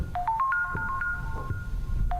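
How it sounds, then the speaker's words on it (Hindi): An electronic ringtone in the horror game Granny chirps a quick rising run of bright beeps and then rings once more, fairly faint and alone. "किसी का कहीं तो फोन बज रहा है।"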